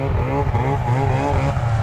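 An Arctic Cat Puma snowmobile engine runs steadily at close range, a continuous droning motor with harmonic hum and slight revving fluctuations, heard alone without voices.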